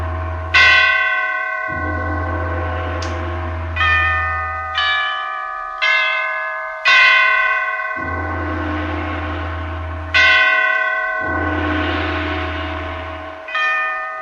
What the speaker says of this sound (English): Catherine the Great had just died, and the great bells of St. Petersburg tolled their requiem.